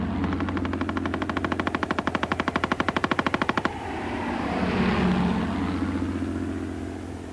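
A rapid, evenly spaced burst of machine-gun fire rattles loudly for several seconds, then stops and gives way to a rumbling engine-like roar that swells and fades.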